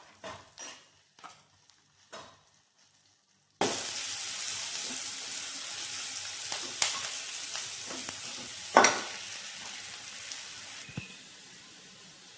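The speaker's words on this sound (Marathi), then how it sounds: "मिरची, कढीपत्ता, लसूण आणि कांदा, जिरी असं टाकलं होतं आणि इथं मी कढीला आता तडका मारणार आहे" Chilli, curry leaves, garlic, onion and cumin tempering is poured into kadhi and sizzles loudly and continuously after a few soft clinks, with occasional stirring scrapes.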